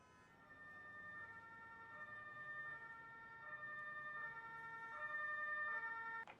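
A police car siren in the emergency-services video game Emergency wails steadily with a smooth rising and falling tone, fairly faint and alone, swelling slightly louder toward the end before cutting off.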